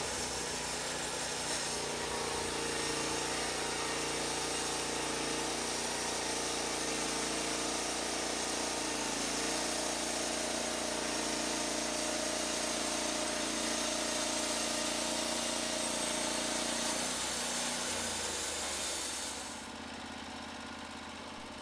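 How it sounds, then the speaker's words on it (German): Norwood LumberPro HD36 portable band sawmill running while sawing logs into beams and boards, a steady loud mechanical drone with engine hum that holds for about twenty seconds, then eases down near the end. "Sie sägt Balken und Bretter, die volle 71 cm breit sind."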